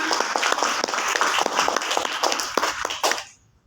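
An audience claps for Bapak Sarwono at a Coway business opportunity presentation, a short burst of steady applause that stays fairly loud before stopping abruptly.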